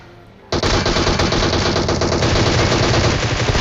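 A Groza rifle fires in PUBG Mobile. After half a second of near silence, one long, loud burst of rapid automatic fire keeps going to the end.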